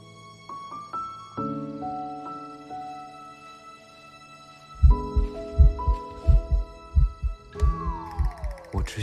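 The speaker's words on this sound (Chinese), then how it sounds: "你心跳得好快哦" A fast heartbeat sound effect thumps in a quick, regular rhythm of deep pulses, rising prominently over a sustained musical drone partway through.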